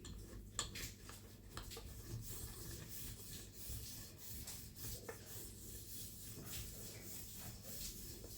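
A wooden rolling pin rubs and rolls over stacked sheets of homemade baklava phyllo dough, producing a soft, continuous rhythmic scraping close up with faint knocks.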